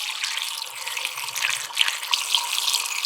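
Coolant rushing through a funnel into a car's cooling system during a thermostat replacement and coolant flush, a steady close gushing pour with no talk over it.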